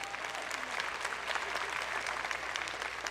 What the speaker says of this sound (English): Clap your hands if you remember it.